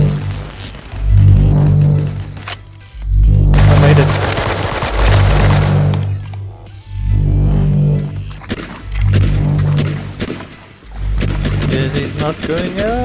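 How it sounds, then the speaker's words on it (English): Gunfire in the battle-royale game Last Man Standing (H1Z1), with bursts of rapid shots in repeated loud volleys separated by short pauses. A voice talks over parts of it. "Somebody shooting from the one side."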